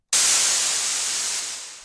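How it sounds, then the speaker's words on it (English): A synthesized white noise riser effect: a loud, bright hiss bursts in suddenly and holds steady, then eases off slightly toward the end, with nothing else heard. "That's our white noise riser."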